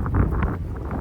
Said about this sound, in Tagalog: Hangin yung weather ngayon,